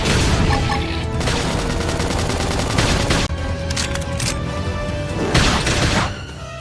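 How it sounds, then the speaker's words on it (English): A flame grenade attack in the video game Xenoblade Chronicles X sounds as a dense, loud barrage of rapid explosive bursts and crackling impacts, with a brief dip midway before another burst of blasts. "Flame grenade!"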